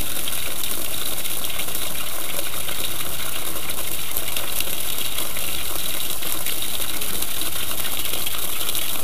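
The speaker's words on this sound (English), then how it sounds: "I'm going to tip this up in the air like this. Let it hit them fan blades." Water tipped from a height strikes the blades of a fan, a steady broadband splashing gush with no speech over it.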